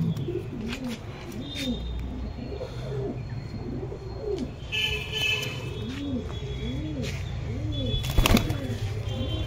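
Pigeons cooing in a loft, repeated rhythmic low coos rising and falling one after another, close and clear, with chirps, clicks and light background noise around them.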